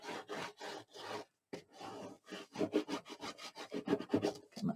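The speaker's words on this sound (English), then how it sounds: "And go ahead and burnish." Paper on a 6x6 accordion craft mini album is burnished with quick rubbing and scraping strokes, close up. The strokes come in short bursts, then speed into a rapid back-and-forth series.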